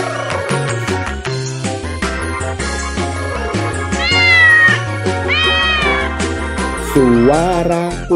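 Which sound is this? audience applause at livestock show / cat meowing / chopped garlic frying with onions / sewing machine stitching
cat meowing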